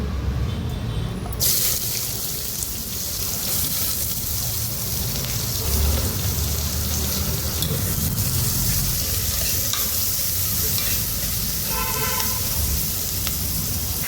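Mutton sizzling in hot oil with onion, garlic and turmeric in a pot, a steady loud fry with stirring scrapes and some watery clatter, no voices.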